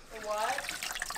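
Water pours out of a flooded Ford F150 engine into a bucket, a close, steady splashing gurgle with voices talking over it.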